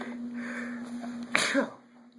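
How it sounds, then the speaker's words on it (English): A single sharp sneeze bursts out close by, preceded by a faint intake of breath, over a quiet steady hum. "I sneezed in this video, so bless me."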